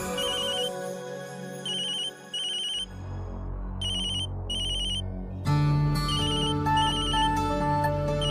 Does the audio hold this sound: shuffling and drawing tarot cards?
no